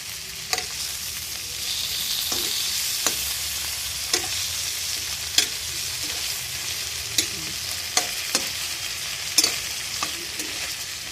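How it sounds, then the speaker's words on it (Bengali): Prawns fry lightly in a wok under a steady, close sizzle, and a spatula taps and clinks against the metal about once a second as they are turned. No one talks. "চিংড়ি মাছগুলোকে হালকা করে এপিট ওপিট করে ভেজে নিলাম"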